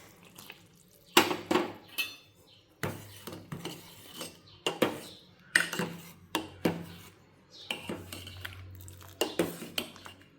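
Hot milk going into a pot of cooking sago kheer, heard as repeated metallic clinks and scrapes of a spoon and vessel with a soft liquid wash underneath, close and moderately loud in uneven bursts.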